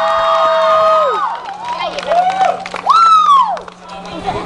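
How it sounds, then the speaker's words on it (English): Crowd at a Filipino festival applauding and cheering for a children's performance with a live band, lively voices and whoops rising and falling close by, with shouting and talk mixed in. "Give them a big hand of applause."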